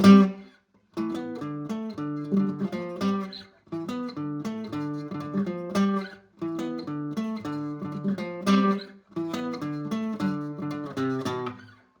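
Acoustic guitar playing a G-based chord pattern from a song, strummed in rhythmic bursts with short pauses between phrases, close and clear with no talking.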